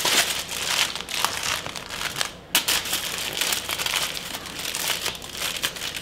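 Fish being folded and wrapped in paper and aluminium foil, giving a close, continuous crinkling and crumpling with repeated sharp rustles and one brief pause.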